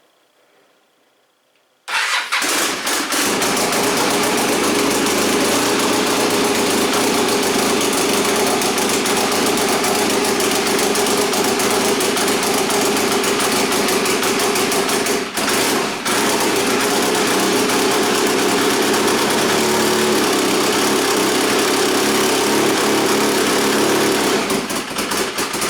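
After a brief quiet moment, a turbocharged Arctic Cat F1100 snowmobile engine cranks and catches, then runs loud and steady at a buzzing idle with a short dip midway.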